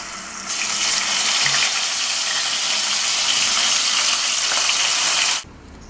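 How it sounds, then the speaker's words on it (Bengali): Pabda fish fry in hot oil with a loud, steady sizzling hiss that holds evenly for about five seconds and then cuts off abruptly. "আমি পাবদা মাছগুলোকে ভেজে নিচ্ছি ভালো করে।"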